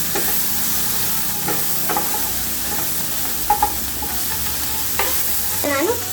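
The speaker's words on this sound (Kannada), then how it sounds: "ಈಗ ಮಿಕ್ಸ್ ಮಾಡ್ಕೊಳ್ಳೋಣ." Fish green masala with coriander and grated coconut fries in a pan and is stirred, giving a constant close sizzle broken by scraping strokes of the spoon.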